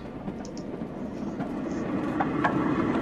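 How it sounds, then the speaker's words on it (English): Train sound from the hidden-object video game House of 1000 Doors: a continuous low rumbling roll with faint rattling clicks, steady and moderately quiet, with no speech over it. "We have a train."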